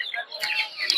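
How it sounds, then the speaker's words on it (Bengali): Farm chickens at a rural duck and poultry market in Puthia, clucking close by amid market noise, with voices nearby. "দেখতে পাচ্ছেন এগুলো হচ্ছে ফার্মি মুরগি"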